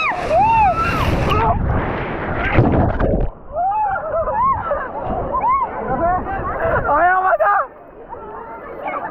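Small sea waves wash in at New Digha beach in India amid a busy crowd, with wind buffeting the microphone and people talking and shouting close by throughout.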